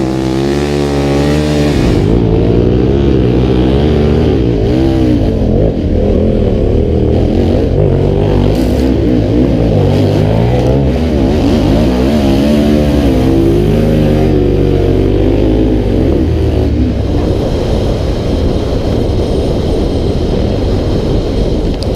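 A KTM 1190R adventure motorcycle runs at speed along a beach, its engine loud and close with a sustained, rising and falling roar and steady revving.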